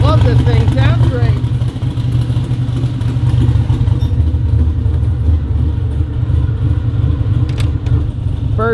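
A 1500hp twin-turbo street car engine runs loud and close in a heavy, steady, lumpy rumble that continues throughout, with a brief voice near the start.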